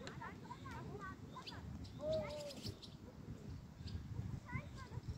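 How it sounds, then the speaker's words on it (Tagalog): Many birds chirp and call at Treptower Park in Berlin, short repeated tweets scattered over a steady outdoor murmur, with people talking nearby. "Ang daming ibon"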